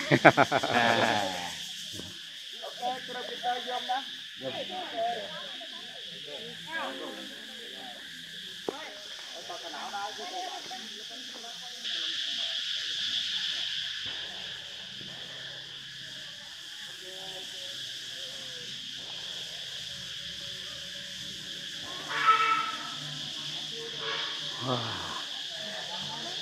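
A continuous high insect drone fills a quiet dry-season forest in Vietnam, with scattered chirps and rustles, and voices talking faintly now and then.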